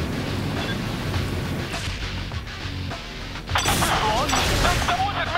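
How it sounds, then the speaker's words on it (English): A laser-guided missile explodes in the video game Saints Row: The Third, a loud blast bursting in over continuous game noise and rumble, followed by crackling debris and sharp tonal effects. "Oh god, it's a laser guided missile."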